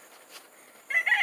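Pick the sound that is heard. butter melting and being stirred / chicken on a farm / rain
chicken on a farm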